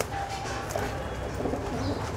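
A Madrasi breed pigeon coos nearby in soft, low, throaty burbles over a short stretch.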